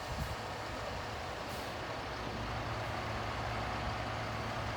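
A loaded dump truck at a construction site drives off, its engine a steady, loud low rumble throughout with faint hissing above, and no voices.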